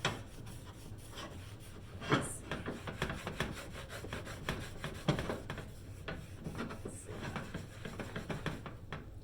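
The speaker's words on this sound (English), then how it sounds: "make sure that you scrub vigorously on the back as well" Close, continuous scrubbing on the underside of a Griswold cast iron pan, a dry rhythmic rasp of steady back-and-forth strokes with a few heavier scrapes, quiet and without talk.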